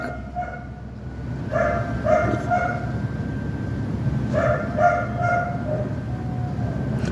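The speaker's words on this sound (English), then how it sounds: "And he's barking because he wants to go." A dog named Manta barks in bursts at a moderate distance, two clusters of several sharp barks separated by a pause, over a steady low background rumble.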